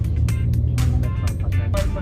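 Road traffic passes near a public market in Antipolo, a low continuous engine rumble with brief swells as vehicles go by, under scattered talk.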